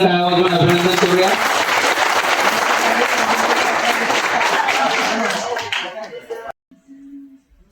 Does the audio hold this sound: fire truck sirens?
no